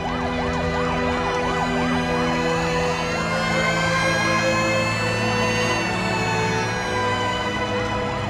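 A fire engine siren wails continuously and loudly, starting with a fast warbling yelp and shifting into slower rising-and-falling tones, with a low engine rumble beneath.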